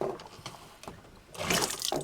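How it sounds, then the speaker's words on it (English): Water from a hand pump faucet runs into the sink of a homemade truck camper, a soft splashing gush that swells near the end of the short clip after a few quiet knocks. "then you can pump the faucet"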